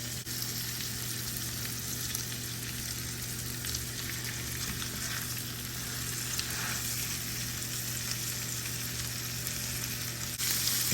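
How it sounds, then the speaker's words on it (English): Beef short ribs sear meat-side down in a hot pan, a steady close sizzle and crackle holding evenly throughout with a faint low hum beneath and no talking. "So you wanna let it sit for about a minute until it sears like this, until you get a nice crispy brown"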